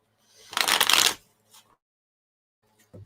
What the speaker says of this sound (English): Being told one more time to shuffle, and then that's good.